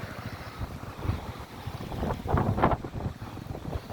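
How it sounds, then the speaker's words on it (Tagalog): Strong seaside wind gusts roar across the microphone at the Baywalk in Calamba, Laguna, at high tide, rising and falling in heavy buffeting surges with waves washing beneath and no voices. "ang lakas ng hampas ng hangin"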